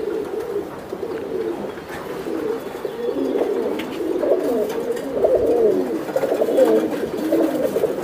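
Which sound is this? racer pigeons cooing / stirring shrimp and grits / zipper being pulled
racer pigeons cooing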